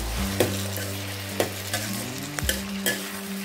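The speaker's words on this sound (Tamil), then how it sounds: "இப்போ ஓரளவு தக்காளி வதங்கினா போதும்." Tomatoes sautéing in a pan for a Chettinad okra mandi, a soft sizzle punctuated by several sharp spatula knocks and scrapes as they are stirred, with a faint melody in the background.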